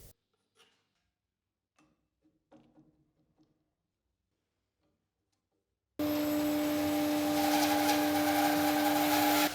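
Power saw resawing a wood board for a toilet paper holder: after a stretch of faint ticks and taps, a loud, steady whining saw drone starts abruptly and runs continuously, close by.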